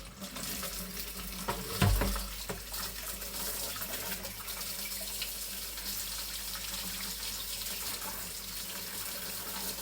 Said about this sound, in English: I've got this mountain of washing up to do